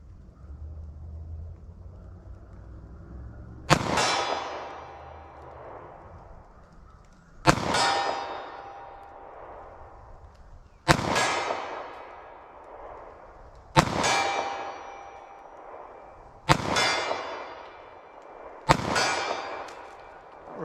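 Six sharp handgun shots from a compact Sig Sauer Elite Defense in .40 S&W ring out one at a time at irregular intervals of a few seconds, each a loud crack with a metallic ring decaying afterward.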